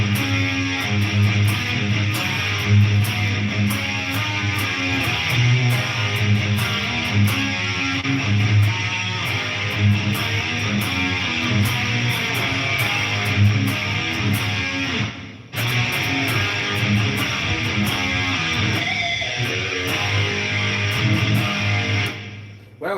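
Distorted electric guitar playing hard rock through a Celestion G12-65 speaker, continuous and loud with dense chords and sustained notes, a brief break midway, and no talking.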